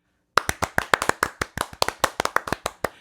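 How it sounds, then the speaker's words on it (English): A small group gives a round of applause at an indie film awards podcast, about three seconds of sharp, distinct claps at close range, starting abruptly after silence with no talk. "have a round of applause for yourselves"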